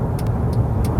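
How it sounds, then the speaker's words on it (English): A Mercedes-Benz W212 E-Class facelift sedan accelerates on a road, a steady low engine and road rumble heard from inside the cabin, close and even for a brief moment. "the car recognizes the road in front is clear and it accelerates accordingly to the speed that I have set"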